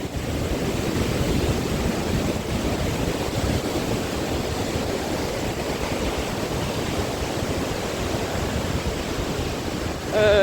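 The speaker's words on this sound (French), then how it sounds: "Ça fonce, puis ça fait des belles chutes d'eau." Outdoor waterfalls in spring produce a steady, loud broadband roar of rushing water that holds constant throughout, with no voices.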